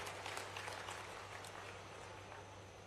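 Applause from an audience at a tribal community conference and training programme, a dense, steady wash of many hands clapping that carries on for the whole stretch, with a low hum underneath.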